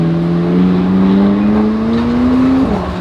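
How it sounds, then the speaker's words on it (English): A McLaren 675 LT Spider supercar drives past on a city street, its engine giving a loud, close, steadily rising drone that climbs in pitch for a few seconds before a brief drop as it shifts or moves away. "675 LT Spider, always the same one."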